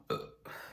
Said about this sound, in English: giving me soft burping sound